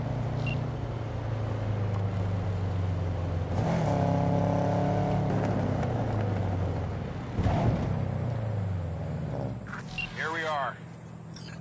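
A car engine in the game Cyberpunk 2077 rumbles steadily while driving, with a couple of louder revs and shifts. Characters talk over it throughout, and the engine dies away near the end.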